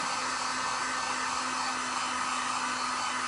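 Hair dryer running steadily at close range, a loud, unbroken whooshing blow with a constant motor hum throughout and no voices.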